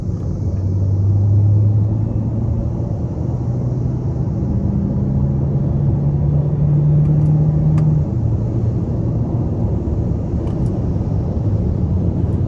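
A 2024 Hyundai Sonata Hybrid SEL with its 2.0-litre four-cylinder hybrid powertrain pulls hard on the road, a steady loud low engine drone rising in pitch over several seconds, no talking.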